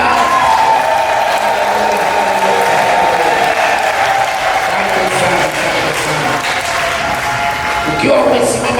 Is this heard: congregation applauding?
yes